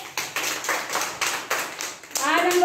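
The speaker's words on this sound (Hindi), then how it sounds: "सही बच्चे तालियां हो जाइए।" Children clapping in a kindergarten classroom: several rhythmic rounds of group hand claps in steady beats, fairly close and loud, followed by a teacher's voice speaking at the end.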